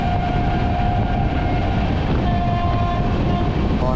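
A freight train loaded with new JCB machines rolls past at Ballabgarh railway station in India, a loud, steady rumbling roar with a faint continuous tone running through it and no talk.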